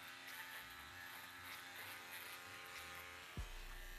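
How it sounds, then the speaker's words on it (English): An Andis foil attachment on a Superliner trimmer cuts hair close to the skin: a steady, high electric buzz held throughout, close and even, with a brief knock near the end. "As you hear by the hair being cut, the Andes foil attachment for the super liner cuts much closer than a trimmer alone."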